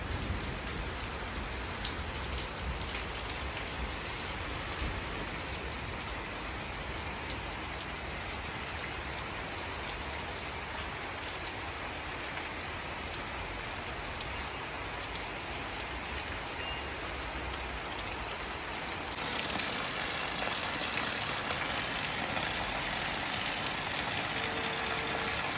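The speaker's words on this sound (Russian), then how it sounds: "Вон, смотрите, какой дождь." Steady rain patters down onto a closed awning, a dense continuous hiss of drops that keeps up for the whole stretch and grows a touch louder near the end, with no talking over it.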